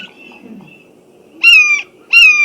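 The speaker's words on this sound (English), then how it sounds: "that sounds like a bit like a seagull, I think." Two loud, harmonic calls in quick succession from a bird that sounds like a seagull, squealing, over a low background rumble.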